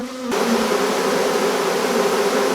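A swarm of bees buzzes steadily and loudly inside a hive box on a farm, the dense drone rising suddenly after a brief quieter moment and then holding constant and close.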